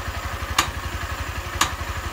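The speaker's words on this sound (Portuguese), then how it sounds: "Vamos ver com a moto em funcionamento, família. Moto funcionando." A Honda Start 160 motorcycle idles close by in a steady, even low thumping rhythm, with two brief sharp clicks rising above the engine beat.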